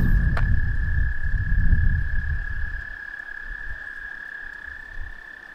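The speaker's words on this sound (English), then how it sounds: "I'm not sure how well y'all can hear those frogs, but they are singing, man." Chorus of frogs singing at night in a wildlife management area, a steady high trill over a dense low croaking wash, mid-distance and continuous, with no talk.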